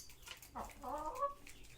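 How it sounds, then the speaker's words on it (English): A farm hen clucks once in a short rising call, close and fairly soft against a quiet background. "That's a hen."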